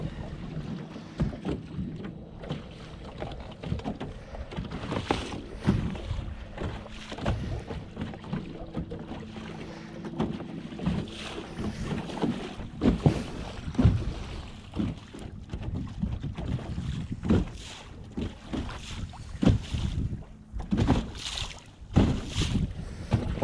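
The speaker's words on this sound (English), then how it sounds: "Wind start pick up now." Gusty wind buffets the microphone on open water during white perch fishing from a boat, with a constant rushing roar, occasional knocks and splashes against the hull, and no voices.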